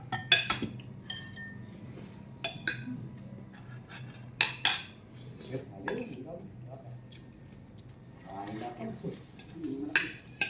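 Cutlery and dishes clink at a dinner of bulalo and shrimp, with sharp scattered clinks of metal on plates and glass between stretches of conversation at the table.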